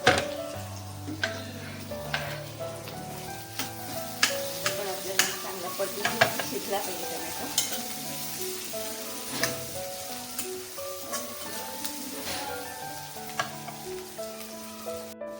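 Onion and tomato frying in a pan for a prawn dish, a low steady sizzle punctuated by frequent clinks and taps of a spoon against the pan throughout.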